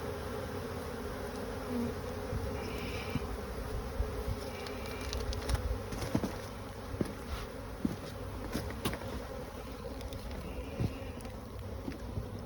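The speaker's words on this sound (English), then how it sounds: "You brush them off in front of the entrance, and what you're hoping is that they'll just go back into the hive" Honeybees buzz steadily around a hive entrance during a honey harvest, a dense, continuous drone with a few faint knocks and rustles in the background.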